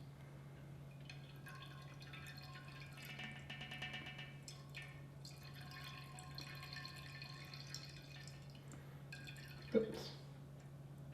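Soft, intermittent drips and trickles of liquid fall from siphon tubing being pulled slowly from a fermenter while racking homebrew, faint and close over a steady low hum, with one sharper splash near the end.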